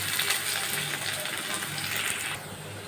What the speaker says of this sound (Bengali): কিছুটা পেঁয়াজ দিয়ে দিলাম তেলের মধ্যে। এবার পেঁয়াজগুলো ভালো করে ভেজে নেব।